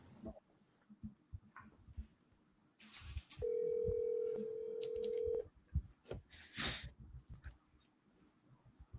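A telephone call is placed: soft clicks and handling, then a steady tone for about two seconds, followed by more taps and clicks with a faint sigh, quiet and close.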